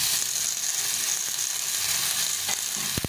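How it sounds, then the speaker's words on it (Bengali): Tomato sizzling steadily in a hot oiled pan while cooking for a cauliflower curry, a constant close hiss with a couple of sharp knocks of a utensil near the end. "এটাকে একটু ভেজে নেব নাড়াচাড়া করে নেবো"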